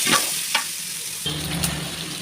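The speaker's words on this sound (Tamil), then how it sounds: "இஞ்சி பூண்டு தக்காளி போட்டாச்சு. இதை நல்லா வதக்கலாம்." Ginger, garlic and tomato sautéing in a pan, a close frying hiss with a couple of brief stirring scrapes, then a fuller, louder sizzle in the second half, no talking.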